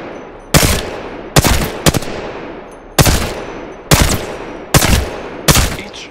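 Gunfire from a weapon in the battle royale game Apex Legends: seven loud, sharp shots spaced roughly a second apart, each with a long decaying reverberant tail, alone without talk.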